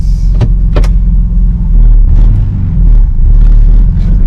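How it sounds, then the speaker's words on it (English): A Toyota MK4 Supra pulls away to test its gears, giving a loud, steady low drivetrain rumble from inside the cabin, with a couple of sharp clicks near the start. "Do a quick move off just to check the gears."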